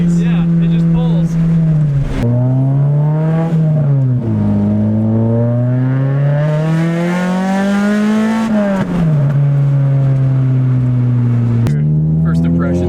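A Honda Civic EK hatchback with a swapped K24 engine pulls hard on the street, loud engine tone climbing in pitch through each gear, dropping at shifts and climbing again, close and dominant.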